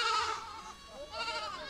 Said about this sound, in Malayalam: പ്ലാവിലെ കാണിച്ചിട്ടാണ് ഇപ്പോൾ ഈ ആട്ടിൻകുട്ടികളെ പിടിച്ചു നിർത്തുക